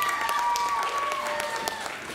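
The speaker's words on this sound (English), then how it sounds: "Give her another round of applause" An audience at a Six Flags Fright Fest magic show applauds a volunteer on stage, steady crowd clapping with a faint whistling tone and bits of voice over it.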